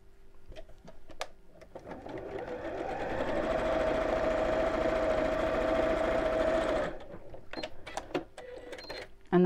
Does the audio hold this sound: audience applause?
no